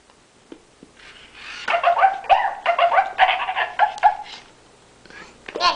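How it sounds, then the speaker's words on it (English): A toy puppy gives a run of high, squeaky whimpering cries, close and fairly loud, in bursts over several seconds with brief gaps. "the doggy's crying because you pulled him over"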